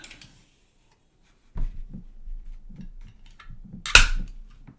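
A pellet BB gun's pump stroke with worn-out, failed O-rings: a few soft, low mechanical clunks, then a single sharp, loud click near the end. No talk over it.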